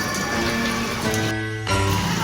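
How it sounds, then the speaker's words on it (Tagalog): Heavy rain pours down steadily at a loading spot where a delivery truck cannot unload its cargo, a dense continuous wash of noise with a brief dip, while someone talks over it. "Grabe lakas ng ulan guys eh."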